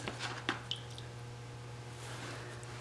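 Water is poured over a jasper stone to wet it, making a few soft, close squishes and drips at the start before settling into a faint steady hum.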